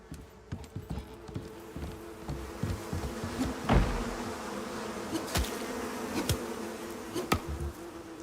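Insects buzz steadily close by in a cave-only survival game, a droning hum with sharp clicks and thumps scattered over it, no talking.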